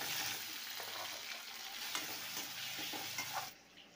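Cumin, bay leaves, ginger, onion and garlic frying in a kadai, giving a close, bright sizzle with stirring scrapes for a few seconds before it drops away abruptly.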